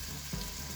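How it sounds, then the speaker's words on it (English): Chilli garlic fish curry base sizzling gently in a pan over very low heat, a soft continuous frying hiss with a faint bubbling pop, quiet and brief. "it's just sizzling away on a very low heat"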